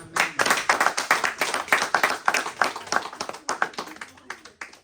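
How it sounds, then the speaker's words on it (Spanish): A church congregation claps steadily for several seconds, a lively burst of applause in a large room. "Denle un aplauso a Cristo."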